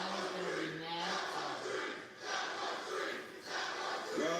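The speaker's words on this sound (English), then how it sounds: "Crowd a little dissatisfied, a little rough right here." Dissatisfied wrestling crowd at a WWE NXT broadcast, a broad restless roar of many voices that swells and dips in waves, with a few distinct shouts rising out of the mass.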